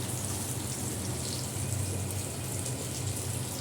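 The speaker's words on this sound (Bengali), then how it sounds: "জিরেটা ফোড়ন দিয়ে দিলাম" Cumin seeds sizzling in hot oil for a yogurt potol curry, a steady, dense hiss that holds evenly throughout at moderate loudness, with no voices.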